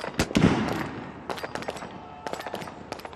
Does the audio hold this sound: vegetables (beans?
no